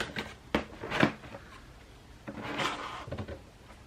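A plain cardboard box holding a Hello Klean purifying shower head is cracked open, giving a few close, dry scraping and rubbing bursts of cardboard separated by short quiet gaps.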